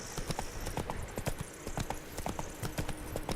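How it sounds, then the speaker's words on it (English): Horse hooves clip-clop in a steady trotting rhythm in The Witcher 3 video game near the Corvo Bianco vineyard estate, a rapid series of crisp knocks at moderate distance, fairly faint. "Oh, there goes a horse."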